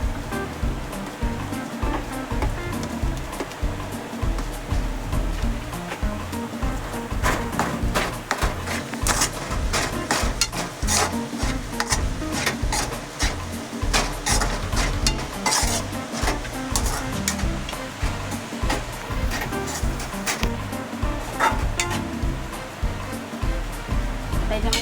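Roasted semolina with dry fruits for sheera is stirred in a pan, a steady scraping and shuffling with a light sizzle, close and continuous.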